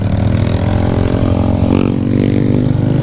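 A motorcycle engine in Jamaica runs loud and close, a steady throbbing rumble that rises into a brief rev partway through.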